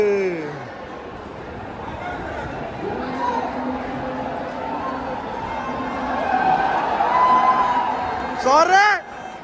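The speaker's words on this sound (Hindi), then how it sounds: "बहुत तगड़ा क्राउड है" A large crowd fills the Arun Jaitley cricket stadium in Delhi with a steady babble of chatter and cheering, and voices stand out near the listener. A sharp whistle and a shout swell near the end.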